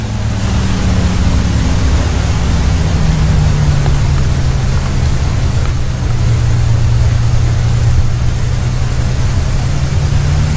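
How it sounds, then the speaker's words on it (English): Spitfire Mk I/II engine in the A2A flight simulator for FSX, running hot and low on RPM: a loud, continuous droning roar with broad rushing noise and a low hum that sags and wavers slightly, heard alone without speech. "you can tell that the engine's hot because it's not getting a lot of RPM out of it"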